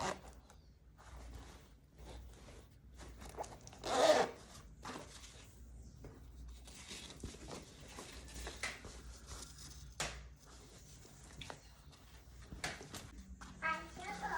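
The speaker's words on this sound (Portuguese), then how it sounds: "Vou costurar aqui o zíper para ele não soltar e vou cortar as sobras." A zipper being sewn onto a handmade suitcase rustles and clicks in short bursts, with one sharper zip partway through, heard under frequent nearby talk and a voice.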